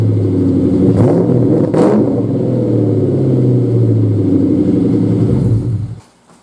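A 1999 Ford Mustang engine revs close by, with a couple of quick throttle blips rising over a heavy, steady rumble before the sound dies away at the end.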